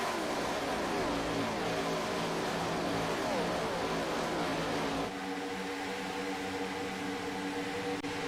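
Racing stock cars roar past in a steady, continuous drone of high engine noise that runs unbroken throughout, with a slight drop in pitch and level near the end and no voices.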